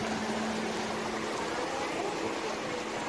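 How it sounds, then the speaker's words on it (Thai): Ocean waves wash steadily onto a beach beside a seaside seafood restaurant in Chanthaburi, Thailand, making a constant broadband surf hiss that fills the whole stretch with no distinct breaks and no speech. "โหเสียงคลื่นสัดสาดหาดเย็น"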